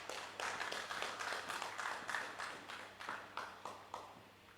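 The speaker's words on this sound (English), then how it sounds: "Give yourself a round of applause then for that" Audience at a national Rastafari conference applauding, a faint, distant patter of hand claps with distinct individual claps standing out, steady and thinning slightly toward the end.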